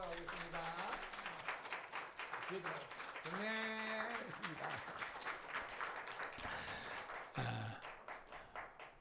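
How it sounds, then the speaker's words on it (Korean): Applause from a Korean Methodist church congregation during a Sunday morning service, a steady wash of clapping with a voice speaking and singing-like tones over it. "자, 우리 박수 하겠습니다."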